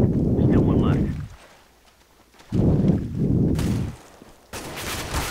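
Bursts of gunfire in Counter-Strike: Global Offensive, with loud clustered shots in several separate volleys and short quiet gaps between them.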